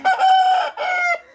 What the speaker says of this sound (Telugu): పిల్లలు కోళ్ళు కాడికి వెళ్ళారు